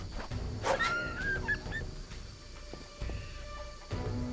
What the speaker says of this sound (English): Let me kill this dog.